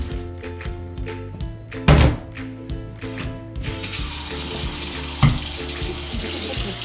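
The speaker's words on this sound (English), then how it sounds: "Cold water." Cold water runs from a kitchen tap into a container while broccoli and chicken are being prepared, a steady close splashing stream with a few clinks and knocks of the container.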